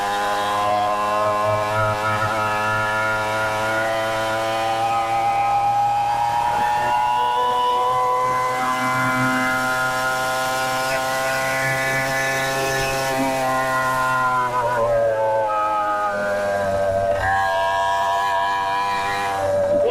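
A Minarelli two-stroke scooter engine revving high and holding in the upper RPMs, a loud buzzing whine with strong harmonics that rises and dips slightly throughout, close and continuous.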